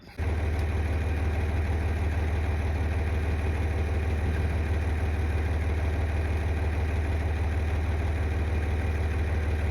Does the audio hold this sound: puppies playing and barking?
no